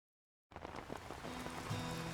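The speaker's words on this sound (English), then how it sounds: "It's raining." Rain falls in the VR game Legendary Tales, a steady soft hiss and patter that begins suddenly and continues evenly at a low level, with no voices.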